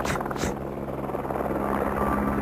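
A helicopter approaches up a desert canyon, its steady rotor drone filling the air with a continuous low rumble and two brief bright bursts near the start.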